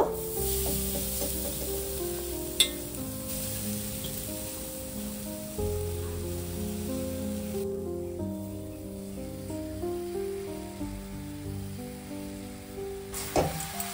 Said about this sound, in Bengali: কড়াইয়ের মধ্যে নারকেল কোড়াটা দিয়ে দেব